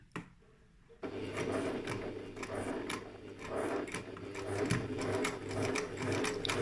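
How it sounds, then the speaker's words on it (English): A sewing machine stitches a half-inch seam on a fabric pencil case, running in a steady, rapid mechanical whir with rhythmic needle clatter after a brief quiet start, continuing for several seconds. "So we're going to sew this on the 1/2 inch seam"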